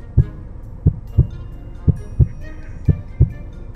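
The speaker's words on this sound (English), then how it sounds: "My heart beating." A heartbeat sound effect thumps out a steady double-beat rhythm, with low, close, muffled pulses repeating about three times over a quiet background.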